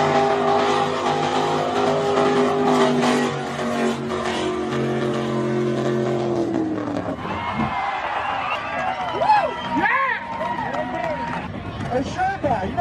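A mud truck running a borrowed 496 engine roars and revs hard outdoors, loud and droning, then fades into a noisy crowd scene with voices and other engines in the background.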